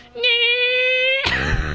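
A voice hums a sustained, steady-pitched tone imitating a Formula 1 racing car engine, then breaks off into a rougher burst.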